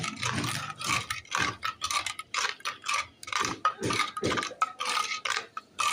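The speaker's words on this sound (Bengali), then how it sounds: "এবার চিনি মেশাচ্ছি" A spoon clinks and scrapes rhythmically against a glass while sugar is stirred into bael fruit sherbet, making bright, close, repeated tinkling strokes with no talking.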